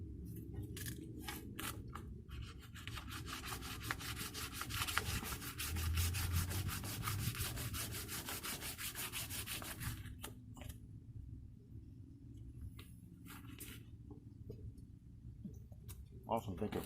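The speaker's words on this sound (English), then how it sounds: "Body work always requires a lot of sanding" Sanding on a car body panel during striker panel repair on a 1971 Bronco: fast, steady rhythmic rasping strokes for about ten seconds, then quieter intermittent scrubbing, with voices in the background.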